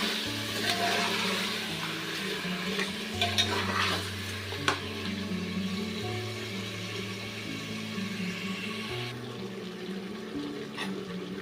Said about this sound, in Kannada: ಇವಾಗ ಇದನ್ನ ಸ್ವಲ್ಪ ಮೇಲೆ ಕೆಳಗ ಮಾಡ್ಕೊಳ್ಳೋಣ.